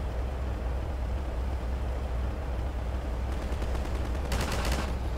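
Gunfire in Half-Life 2 near an antlion-infested beach: two short rattling bursts of automatic shots stand out against a constant low rumble of game noise.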